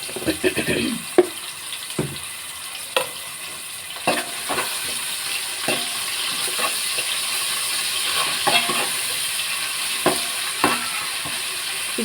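Ginger paste fries in oil for a Telugu fish curry, a continuous close sizzle broken by regular sharp taps and scrapes of a spoon stirring in the pan.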